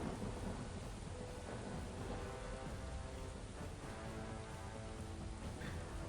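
Rain falls steadily in the SWGEmu video game as thunder rumbles throughout, a dense, even wash of sound with no voices.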